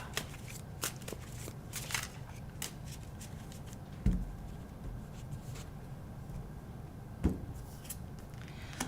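A tarot card is drawn from a deck amid soft, repeated papery shuffling and sliding of cards, with a couple of sharper taps, all close and quiet.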